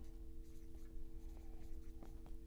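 A pen scratches and taps across a surface while a diagram of brain arteries is drawn, faint short strokes over a steady low electrical hum.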